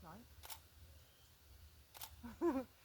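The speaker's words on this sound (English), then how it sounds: "Nice smooth sound on the shutter." Two quick DSLR camera shutter clicks, crisp and close, spaced about a second and a half apart, with soft talking around them.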